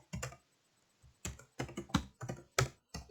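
Keys on a computer keyboard are typed to enter a password, a burst of crisp, close clicks, a short pause, then a quicker irregular run of taps.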